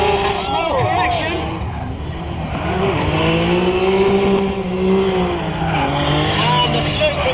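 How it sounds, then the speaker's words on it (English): Drift car at Donington Park in British Drift Championship Super Pro practice on Federal tyres, engine revving hard and tyres squealing as it slides wide, loud and continuous with a commentator talking over it. "this is where he'll put his foot down and drift wide"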